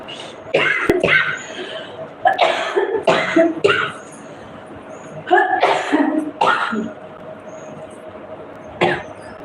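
A person coughs repeatedly in short harsh bursts, separated by pauses, close by.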